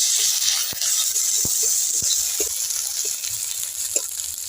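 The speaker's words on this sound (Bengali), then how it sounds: "এবার আদা রসুনটা ভালো করে ভেজে নেব" Ginger-garlic paste fries in hot oil in a pan, a close, steady sizzle with a few sharp stirring clicks and scrapes, and no talking.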